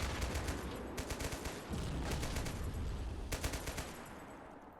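Rapid bursts of machine gun fire crackle through a video game battle with French forces on a ridgeline, repeated strings of shots over a dense rumbling background of distant combat.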